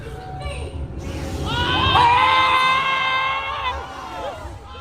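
An audience at the Disney Star Wars Galactic Starcruiser erupts in excited cheers, whoops and high-pitched screams during a staged performance, swelling for a couple of seconds before fading back to babble.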